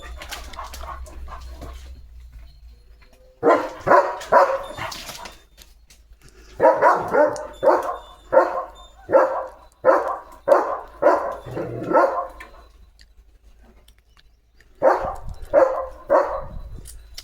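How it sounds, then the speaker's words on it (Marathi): Leo, a pet dog, barks loudly and repeatedly at herders' dogs passing with cattle, with sharp barks in steady bursts separated by short gaps outdoors. "प्रत्येकाच्या गुरांसोबत त्यांचे त्यांचे डॉग आहेत त्यांना भुंकतो लिओ"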